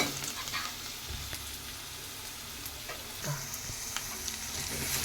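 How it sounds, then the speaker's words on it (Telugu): Raw prawns hit a pan of fried onions for an Andhra-style prawn gongura curry, giving a steady close sizzle with light stirring scrapes throughout and no talking. "మన ఉల్లిపాయలు అయితే వేగిపోయాయి ఇప్పుడు మనం ఇందులో రొయ్యలు అయితే వేసేసుకుందాము"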